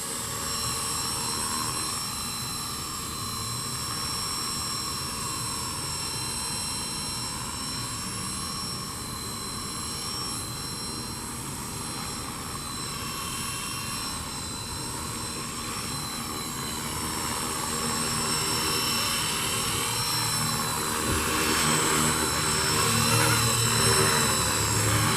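A radio-controlled model helicopter flies and hovers nearby, a sustained high whine with steady rotor buzz and tonal harmonics that swells louder toward the end, no speech.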